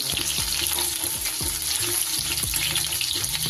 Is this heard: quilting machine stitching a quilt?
no